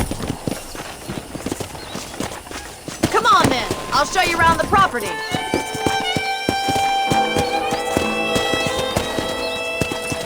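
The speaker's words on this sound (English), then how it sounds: "I picked out a fine horse for you." A horse trots in the western video game Red Dead Redemption, its hooves clip-clopping in a steady rhythm under a voice, followed by a swell of game music.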